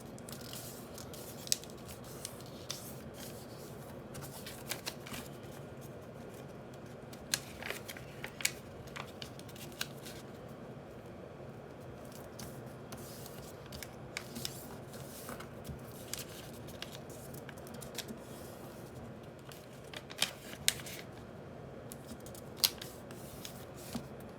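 A sheet of paper is squash folded into an origami griffin, with soft rustles and crisp creasing snaps recurring irregularly over a steady hiss, close and fairly quiet.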